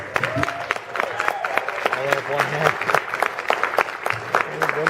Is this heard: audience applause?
yes